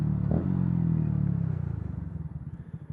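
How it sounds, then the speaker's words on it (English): Motorcycle engine blipping its throttle on a downshift during clutchless shifting, a short rev rise followed by a pulsing, settling engine note, close and fairly loud with no talk. "That's basically what blipping the throttle's doing."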